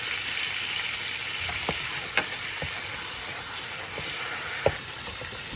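Minced garlic sizzling in melted butter in a pan, a steady bright frying hiss with a few sharp pops and crackles, close and continuous, no talking.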